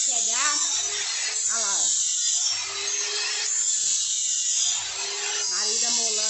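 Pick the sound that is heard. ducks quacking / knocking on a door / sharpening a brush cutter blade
sharpening a brush cutter blade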